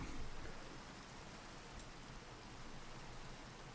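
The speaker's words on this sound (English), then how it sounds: "Of course it's raining." Rain falling in Minecraft, played on the ATM9 modpack: a faint, steady wash of raindrop hiss that continues evenly throughout, without voices.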